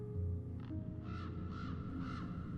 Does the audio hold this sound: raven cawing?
yes